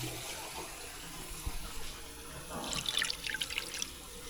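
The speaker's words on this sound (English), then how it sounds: "So let me add some water right now." Water poured into a pan while making flan con dulce de leche, a soft broadband splash that swells in a short burst partway through, fairly close, with no talking.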